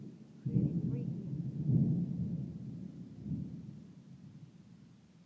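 Low thunder rumbles through a summer lightning storm over a backyard, a deep rolling swell that rises twice and slowly fades, heard fairly close with no rain.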